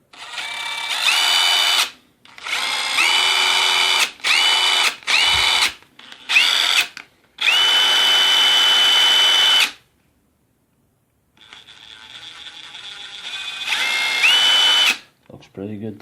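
A repaired Dewalt DCF886 single-speed brushless impact driver runs in several loud bursts of high whirring, separated by short pauses, ending with a quieter spin-up.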